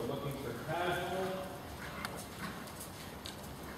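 Horse hooves clip-clopping on an arena surface during a canter transition at a riding clinic, a soft rhythmic beat under a person speaking.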